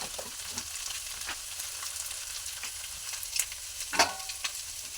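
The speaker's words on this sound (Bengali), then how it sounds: "এইভাবে ডিমটা একটু ভাজা হোক" An egg fries in a pan with salt and turmeric, giving a steady soft sizzle and crackle, punctuated by a few brief clinks and scrapes, with no voices present.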